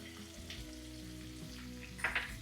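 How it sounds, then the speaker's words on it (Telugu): Onions and green chillies fry with urad dal in oil for cashew upma, a soft, low sizzle with faint stirring and a brief brighter crackle toward the end. "ఇది కాస్త వేగిన తర్వాత ఉల్లిపాయలు వేసుకోండి ఉప్మాలో ఉల్లిపాయతో పాటు పచ్చిమిర్చి కూడా"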